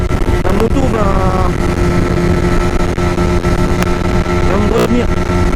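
A 2021 Honda CB125R motorcycle is ridden flat out at its rev limiter, giving a loud, steady engine drone with heavy wind rush, and a rider's voice is heard over it.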